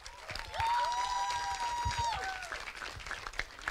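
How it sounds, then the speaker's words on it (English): An audience at a college cultural event applauds the performers, a steady wash of clapping running under a sustained tonal music or feedback line, moderately loud and continuous. "Let's give them another round of applause."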